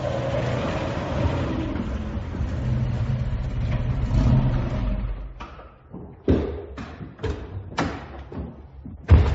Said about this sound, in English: The car's waiting outside.